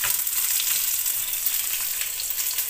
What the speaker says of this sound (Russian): Жарю сосиски на сливочном масле.